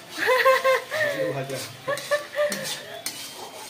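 A spoon stirs chicken chaap gravy in a pan, making soft scrapes, light clinks and a faint sizzle. Two people talk over the stirring at close range.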